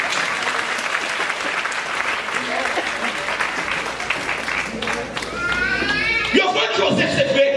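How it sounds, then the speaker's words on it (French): A church congregation at a pastor's sermon in New York claps in a dense, sustained burst of applause, with voices mixed in and scattered cheers rising near the end. "Applaudis mon Dieu de cela, applaudis mon Dieu."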